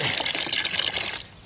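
Water pours steadily into a container for a Portland cement slurry used as a paint in a foundation crack repair, a close, continuous gush that stops abruptly near the end.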